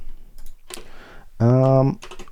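Fingers tap out a short burst of keystrokes on a computer keyboard, close and clear, between bits of talk and a brief tonal hum partway through.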